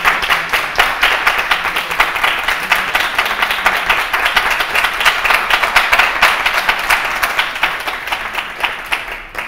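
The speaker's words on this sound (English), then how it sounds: "I want to have a round of applause for her" An audience applauds a presenter at a talk: steady, dense clapping that holds at an even level for about nine seconds, loud and close, with no voices over it.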